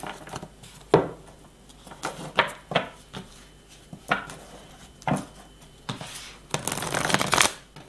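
A deck of tarot cards is shuffled by hand at close range, crisp riffling bursts and taps in irregular rhythm, ending in a longer fluttering riffle, with no talking.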